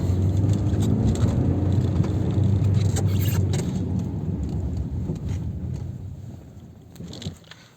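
A Honda CR-V engine hums low and steady in second gear as the vehicle rolls slowly through mud on winter tyres, with occasional clunks and squelches, fading slightly toward the end.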